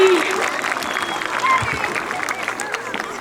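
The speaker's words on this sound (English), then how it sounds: "Give Ms. Ajemian a big round of applause." Audience at a school Founders Day assembly applauding a guest called up to speak, a continuous wash of clapping with a cheer and crowd babble mixed in throughout.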